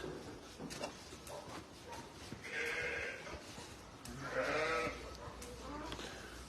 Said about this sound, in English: 6 or 7 ewes worth.